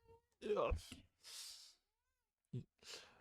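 A domestic cat meows close by, indoors: two drawn-out meows at the start, a short breathy sound between them, then a quick third meow and a soft breathy trailing sound after a pause.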